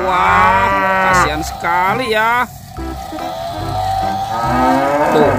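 A cow toy being bitten by a crocodile toy lets out loud, drawn-out moos in several long calls, close and clear, with a person talking in between and over them.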